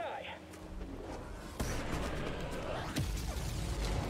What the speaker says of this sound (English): Stop shooting RPGs at me, buddy.